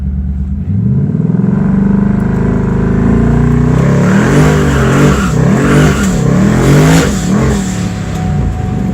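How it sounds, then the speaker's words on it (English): A Mustang's engine revs loudly and steadily on a trans brake while its TH400 automatic transmission slips, the pitch rising and wavering through repeated surges for the whole stretch, close and continuous with no talking. "You'll see how it slips, like when I get it on the trans brake."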